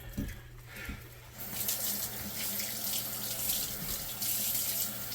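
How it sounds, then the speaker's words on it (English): Tap water runs steadily into a kitchen sink while items are rinsed during a mock decontamination, the flow starting softer and then gushing louder and continuous, with light clatter underneath. "Rinse these off."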